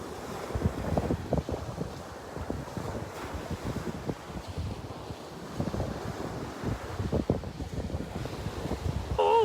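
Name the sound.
wind blowing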